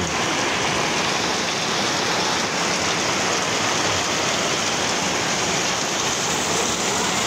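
Heavy afternoon rain pours steadily, a dense, even hiss of water drumming on surfaces close by, unbroken from start to finish.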